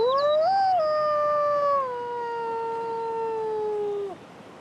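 A lone wild wolf gives one long, clear howl that rises briefly, then slides slowly downward for about four seconds before breaking off, close and loud with no talk.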